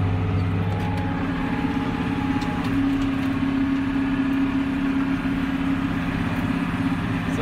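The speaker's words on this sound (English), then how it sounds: "Now the tractor's working a little bit and it's really jumping around" A tractor pulling a chisel plow uphill across a sloping field, its engine a steady, loud, continuous droning hum with a low rumble, unbroken for the whole stretch.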